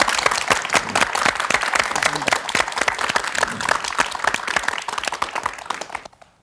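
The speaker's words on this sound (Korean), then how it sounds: "격려의 박수 좀" Studio audience at a Korean TV broadcast breaks into loud, close applause, dense individual claps forming a steady rhythm for about six seconds before cutting off abruptly.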